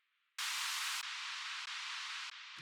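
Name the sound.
white noise in a music production session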